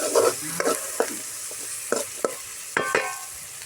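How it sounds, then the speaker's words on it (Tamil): Small onions frying in a pan for egg gravy: a continuous sizzle with sharp, irregular scrapes and knocks as a spatula stirs them, heard up close. "சின்ன வெங்காயம் சேர்த்துக்கிறேன்"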